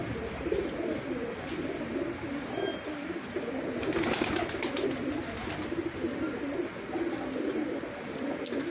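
Madrasi breed pigeons coo in a loft, a steady layered low murmur of many birds close by, with no voices.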